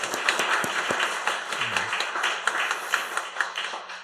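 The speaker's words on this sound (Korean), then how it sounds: "박수 한번 격려하십시다" A church congregation applauds during a Sunday evening worship service, steady scattered clapping from many hands in a reverberant hall, lasting a few seconds.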